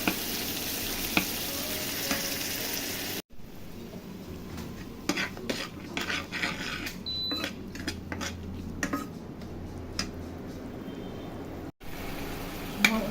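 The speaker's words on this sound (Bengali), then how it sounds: "মশলাটা আমি সুন্দর করে সব মশলা ভালো মতন কষে নিলাম" Spice masala for a fish curry sizzles and fries in a pan, a soft crackling hiss broken by scraping stirs and light clinks of a utensil against the pan, fairly quiet with two short cuts.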